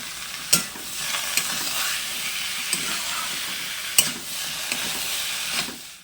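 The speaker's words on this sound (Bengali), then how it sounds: "এবার যে সবজিগুলো আমি সিদ্ধ করে রেখেছিলাম সেই সবজিগুলোকে আমি দিয়ে দেবো। দিয়ে মশলার সাথে ভালো করে কষে নেব।" Boiled vegetables, including potato, banana stem and lentil dumplings, stir-fried in a pan with spice paste: a steady sizzle under repeated spatula scrapes, with a few sharp metallic clinks.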